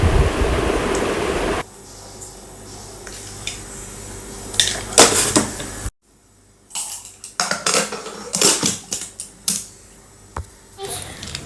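Pieces of corn set one by one into a pressure cooker, followed by water: scattered hard clinks and knocks against metal, several clustered taps and a brief pouring rush, close and fairly loud in a quiet kitchen.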